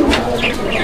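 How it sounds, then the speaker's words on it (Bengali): A racer pigeon, one of a pair kept for sale, cooing up close in a few soft, throaty pulses, with a faint murmur of voices underneath. "এখানে একজোড়া রেসার কবুতর আছে, মিলি রেসার কবুতর"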